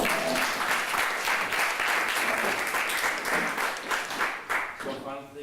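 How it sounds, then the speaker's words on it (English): Workshop attendees give applause at the close of the day, a moderate crowd of clapping with audible individual claps, thinning out near the end as a voice starts speaking. "Maybe we can give a final applause to all those who were there."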